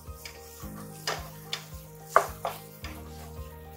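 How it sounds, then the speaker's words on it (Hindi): A spice paste for Jain Burmese khow suey roasts in oil on a low flame, with soft intermittent scraping strokes of a spoon in the pan over a quiet sizzle and a faint steady hum. "और इस पेस्ट को हमें अच्छे से भून लेना है।"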